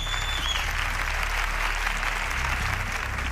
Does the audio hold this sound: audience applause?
yes